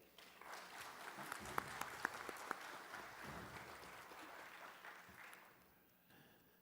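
A crowd at a public hearing on the arrest of football supporters breaks into applause, a steady patter of clapping with a few sharper claps standing out, building and then fading toward the end, fairly faint and distant.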